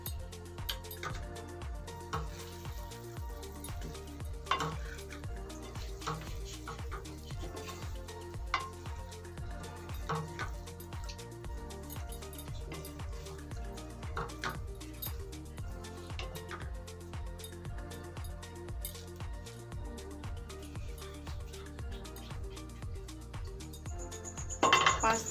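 Boiled macaroni being mixed in a pan for a chicken pasta bake, heard as quiet, continuous clinking and scraping of a utensil against the pan in a fairly regular rhythm, faint and without voices.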